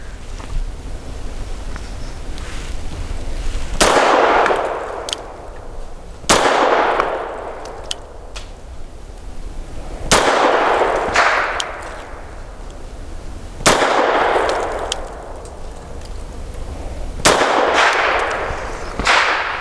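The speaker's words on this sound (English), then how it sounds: "So 5 shots from 7 yards for accuracy using the Blazer 95 grain" Five loud, sharp Grand Power LP380 pistol shots firing Blazer 95 grain ammunition at a target from 7 yards, spaced a few seconds apart, each with a ringing decay.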